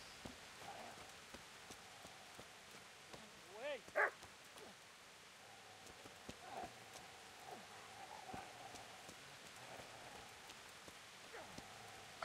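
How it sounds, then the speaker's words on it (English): Dogs bark in the distance during rain in the video game Kingdom Come: Deliverance, a few faint scattered barks over a steady soft patter of rainfall. "I hear some dogs barking and carrying on."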